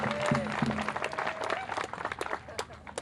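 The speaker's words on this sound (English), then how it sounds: "can everybody give her a quick round of applause?" Audience applause for Ariadna at a Families Belong Together rally, scattered outdoor clapping with uneven bursts from a crowd, voices mixed in beneath.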